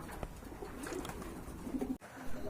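Maltese pigeons in a market pigeon sale coo in soft, low, rounded calls, a few repeated phrases close by with a short thump near the end.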